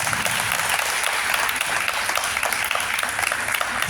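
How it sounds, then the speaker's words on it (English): Dense, steady applause from an audience at a women's empowerment career guidance program for students, continuous clapping filling the whole stretch with no break. "Give a big clap for him."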